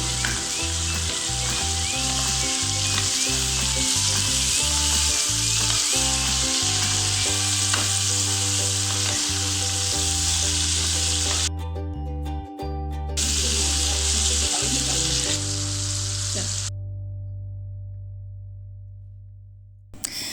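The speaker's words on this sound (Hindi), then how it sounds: "यहाँ पे हमारा चिकन बहुत अच्छा फ्राई हो चुका है।" Chicken karahi frying in oil in a pan, a loud steady sizzle that continues throughout, with tonal background music and occasional stirring clatter, ending as the music drops out.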